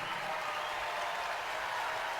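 More than 8,000 fans at Assembly Hall clap during a Michigan vs Indiana women's college basketball game, a distant, even wash of applause in a large arena with no standout voices.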